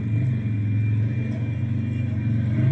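An engine free revs during a competition run, a steady mid-pitched rumbling drone with slight throttle fluctuations and no voices.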